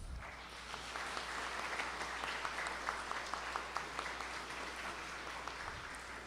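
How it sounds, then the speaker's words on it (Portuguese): An audience gives sustained, steady applause honouring all women on Women's Day, dense clapping filling the room at an even level throughout with no voices on top. "eu gostaria de uma salva de palmas para todas as mulheres"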